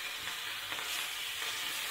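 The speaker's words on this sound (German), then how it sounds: "Das braten wir jetzt an." Turkey breast sears in a pan, giving a soft, steady sizzle and hiss at low volume throughout, close to the pan and with no talking.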